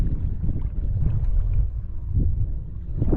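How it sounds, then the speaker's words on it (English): Strong wind buffets the microphone out on the water during a saltwater kayak trip, a continuous low rumbling roar with gusty surges and faint water sloshing, no voices. "the wind just picked up dramatically"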